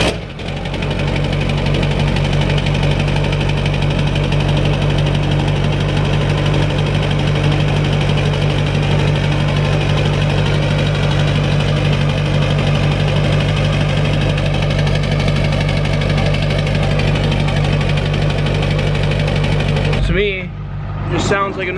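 A straight-piped Ford 7.3 diesel work truck idles after a cold start, loud and deep with a steady knocking rumble close by for about twenty seconds before it cuts out, with a voice briefly at the end.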